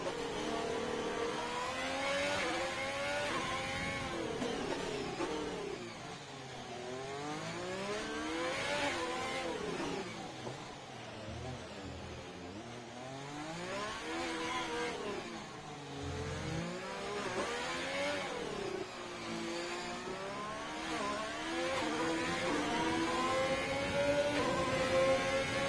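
Formula 1 car engine in the F1 2020 video game at Monaco, a loud, continuous high-pitched whine that rises and falls through rapid gear changes and revving over a full lap, with no talking.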